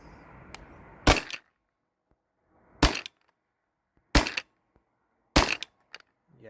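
A modified Valken M17 A2 paintball marker on an HPA tank fires four sharp, cracking shots spaced a second or so apart, each loud and close, with quiet gaps between and faint clicks around them.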